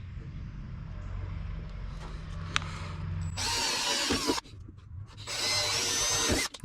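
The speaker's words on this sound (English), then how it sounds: "Okay, I've got a 3/32 bit in my drill." A power drill with a 3/32 bit whirs in two sustained bursts with a short pause between, loud and close, after a stretch of low mechanical hum.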